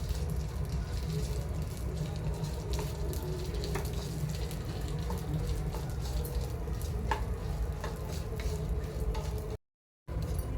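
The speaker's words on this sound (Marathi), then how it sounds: "तर ते आता मी ह्याच्यामध्ये घालत आहे भाजण्यासाठी थोड्याशा तेलामध्ये भाजायचं आहे" Okra fries in a little oil in a pan, giving a continuous dense sizzle and crackle for about ten seconds before a brief dropout near the end.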